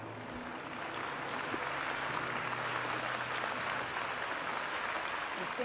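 Warm applause from a conference audience welcoming Pastor Paula White and former ambassador Sam Brownback, a steady dense wash of clapping that holds throughout at moderate distance.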